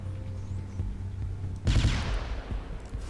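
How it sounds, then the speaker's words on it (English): Heavy cannons firing in the space combat game Galactic Junk League, a Destroyer ship in battle: a loud burst of booming shots erupts midway over a low steady engine hum and lingers into a rumbling tail. "The power of Uber cannons!"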